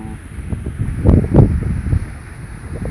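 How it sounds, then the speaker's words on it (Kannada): Sea wind blows at Head Bandar beach in Kumta, bending the trees. Steady, low, rumbling buffets hit the microphone, swelling in gusts near the middle. "ಗಾಳಿ ಗಿಡಗಳು ಇದು ಗಾಳಿ ಬೀಸ್ತಾ ಇದೆ ಸಮುದ್ರದ"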